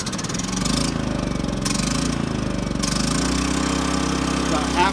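A Champion 3400 watt dual fuel inverter generator with electric start cranks and runs on gasoline, giving a steady, throbbing mid-pitched engine drone with brief rhythmic bursts, close by.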